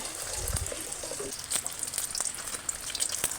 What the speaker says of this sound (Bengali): প্রথমে 1 পিস ডিম ভেজে নিচ্ছি